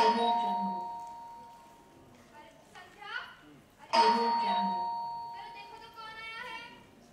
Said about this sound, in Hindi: अचानक घर की घंटी बजती है।